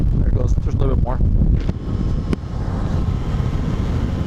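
Wind buffets the rider on a 2020 Yamaha Tracer 900 GT motorcycle, a steady rushing roar under someone talking at the start, continuing alone afterward.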